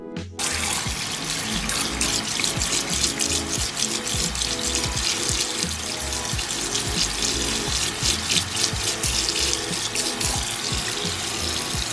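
Kitchen tap running while a beauty blender makeup sponge is rinsed and squeezed under it, the water splashing and gurgling steadily at close range, with uneven wet squelches and no talking.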